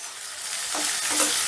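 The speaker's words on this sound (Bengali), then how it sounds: "এবারে গ্যাসের আঁচটা মিডিয়ামে রেখে পেঁয়াজটাকে আমি হালকা করে ভেজে নেব" Finely chopped onion fries over medium heat in mustard oil, a close, steady sizzle broken by stirring and scraping in the pan.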